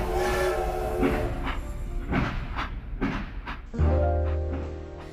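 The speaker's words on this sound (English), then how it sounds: "The Polar Express let out a loud blast from its whistle and sped away." The Polar Express steam train lets out a loud whistle blast over hissing steam and rumbling rail noise, a sustained tone that swells and then drops into a lower held note as the train pulls away.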